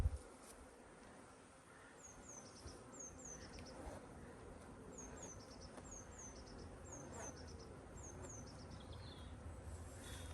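Honeybees hum steadily during a hive inspection, a low continuous buzz, while birds chirp in repeated short phrases in the background.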